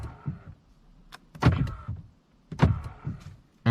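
Driver's door lock on a Hyundai Ioniq 5 SE actuating, with two or three short mechanical clunks and whirs in quick bursts, close and fairly clear with no talking.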